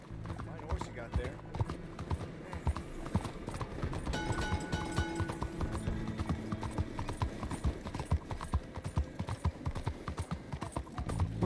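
Horse hooves clip-clop at a steady rhythmic pace in the video game Red Dead Redemption 2, fairly faint and continuous, with people talking over the hoofbeats throughout.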